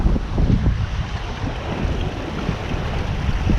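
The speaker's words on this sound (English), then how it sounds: "We've got a strong wind coming from behind." Strong following wind and swell roar across a Contessa 26 sailboat running downwind under both sails in the Atlantic, a loud, gusty rush of wind noise with low surging waves, continuous and without voices.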